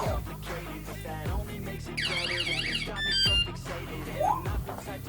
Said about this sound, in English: two beep warning, next one is alarm.